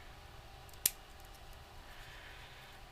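Scissors make a single crisp snip through craft material from a Sizzix craft kit, one short bright cut standing out against a quiet room background.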